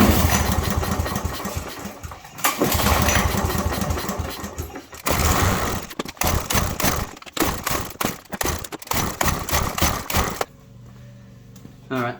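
A broken lawn mower engine runs loud and close, surging roughly and sputtering in choppy bursts, cutting in and out repeatedly before dying to near quiet.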